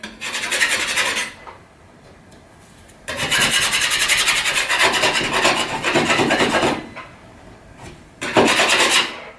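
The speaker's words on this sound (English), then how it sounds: "So just a quick scrape back." Scraper dragged over a drywall plasterboard ceiling to knock back imperfections around a hole repair, giving loud rasping strokes in several long bursts separated by brief pauses, close up with no talking.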